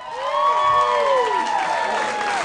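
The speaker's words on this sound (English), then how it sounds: "Give a big round of applause." Audience at a dance night cheering, whooping and clapping for ballroom performers, a lively crowd swell heard from within the room.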